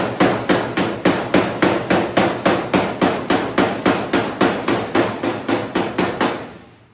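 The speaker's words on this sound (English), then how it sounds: "Sorry for all the beating, y'all. It comes with the territory of sheet metal work." A hammer pounds rusted sheet metal in a steady, rapid series of about two dozen loud, ringing blows close by, then stops.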